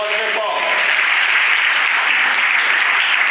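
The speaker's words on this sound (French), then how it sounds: "Applaudissez pour eux. Très fort." Loud, sustained applause from a church youth forum audience in Lubumbashi, dense clapping filling the room for several seconds with a few voices briefly audible at the start.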